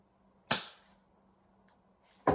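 A T77 mini Uzi gas blowback airsoft replica, Taiwanese and running on HFC gas, fires two sharp snapping shots about two seconds apart, each a loud close crack with a quick decaying tail.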